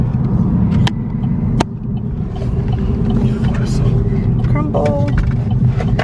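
Steady low engine and road rumble from inside a moving car, continuous throughout, with people talking over it and a couple of sharp knocks near the start.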